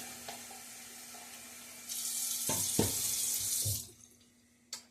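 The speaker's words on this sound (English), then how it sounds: "Rinsing out the bowl here." Running tap water rinses out a shaving soap bowl in a sink, a steady splashing gush that swells for a couple of seconds and cuts off, with a few clinks of the bowl before and after.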